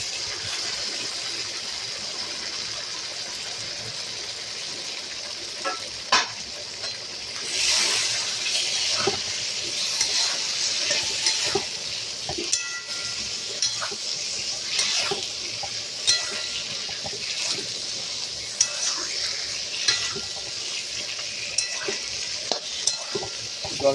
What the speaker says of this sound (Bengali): ভাজা আলুগুলো এবার দিয়ে দিচ্ছি।